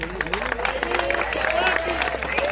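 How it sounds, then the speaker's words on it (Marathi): An audience claps and cheers for Sachin, a volunteer being honored at a Sainath Seva Samiti gathering, a dense, steady wash of applause with crowd voices and babble throughout. "आपण सर्वांनी जोरदार सचिनसाठी टाळ्या वाजवायच्या"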